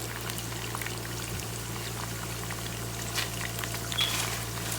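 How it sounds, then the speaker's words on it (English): Blended pepper mix, thick and wet, is poured into a pot of African vegetable stew, giving a soft, faint gurgling trickle over a steady low hum, with no voices. "Put your peppers in there."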